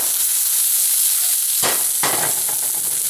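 Onion and garlic frying in a pan, a steady close sizzle and hiss with two louder crackling bursts near the end as the food shifts.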